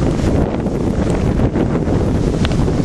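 Strong wind gusting around a house during a flood, a loud continuous broadband roar of wind buffeting the microphone with no talk over it.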